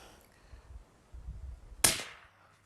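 One sharp crack from a 300 Blackout rifle firing a Cranky bullet follows quiet rustling and shuffling. It is a single brief, bright snap with a short tail.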